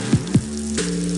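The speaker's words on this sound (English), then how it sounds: "That's the sound of Hungry Howie's hot, real mozzarella cheese melting over a bed of dough made fresh today." Hot mozzarella on a Hungry Howie's pizza sizzles in a produced ad effect, a couple of quick squelchy blips then a steady crackling sizzle over low hum, short and close.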